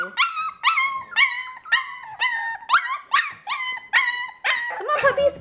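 Young puppies in their third to fourth week give a run of about ten high, wavering whimpers and short howls, one after another in quick succession, close and clear with no talking.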